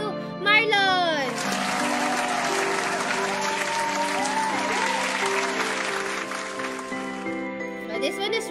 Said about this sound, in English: let's cheer for them